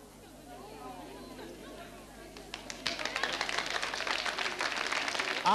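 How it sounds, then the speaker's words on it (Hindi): Audience applause at a Holi college quiz show at a government women's polytechnic, clapping swelling up after a few seconds of murmuring and growing louder and denser toward the end, with voices in the background. "तालियां जोरों से बजाइए आपके लिए"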